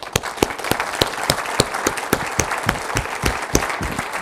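An audience at a city State of the City event applauds steadily, with dense overlapping claps and some sharper individual claps sounding close.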